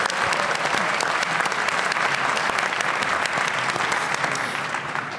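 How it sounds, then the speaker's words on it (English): Dense, loud audience applause filling the renovated Barrymore Theatre at a mayoral forum, continuous clapping from a large crowd that tapers slightly at the end. "Yes, please give them a round of applause"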